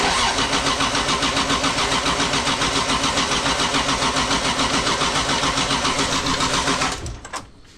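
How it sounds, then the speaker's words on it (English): A Toyota 2JZ engine swapped into a Nissan S13 cranks on the starter in a steady, rapid rhythmic chug, loud and close, for about seven seconds before cutting off. "we're gonna let it crank"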